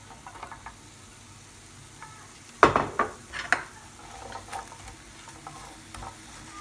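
Chopped onions hit a hot pan of frying turkey stir-fry, giving a loud burst of sizzling with stirring and clattering of a utensil against the pan, then settling to a quieter steady fry.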